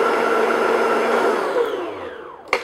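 An electric mixer whirs steadily as it beats meringue egg whites, then winds down and stops near the end with a brief clatter.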